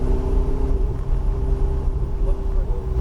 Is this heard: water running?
no